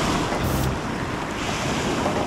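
Ocean waves breaking at a river mouth, a steady broadband wash of surf mixed with wind noise on the microphone, continuous and fairly loud.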